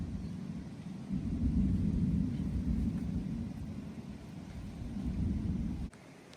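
A thunderstorm rolls over open cornfields in Berks and Lehigh Counties, Pennsylvania, its thunder a deep, loud, sustained rumble that swells, holds for several seconds and then cuts off abruptly near the end, with no voices.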